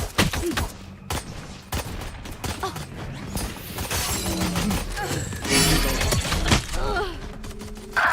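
Scattered gunshots and bursts of fire in a Valorant match ring out at irregular intervals over busy game sounds, some sharp and close, others mixed with shattering and crashing noises.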